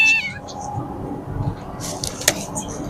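A voice imitates a cat with a couple of short meows at the start, followed by faint rustling, soft clicks and a sharp tap.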